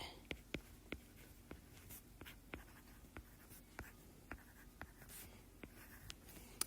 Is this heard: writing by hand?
yes